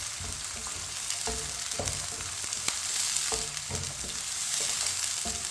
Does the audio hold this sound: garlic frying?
yes